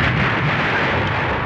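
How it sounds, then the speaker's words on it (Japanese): A space shuttle explodes in an anime scene, a loud, dense, sustained blast roar that fills the short moment, with no voices. "シャトルが爆発した。"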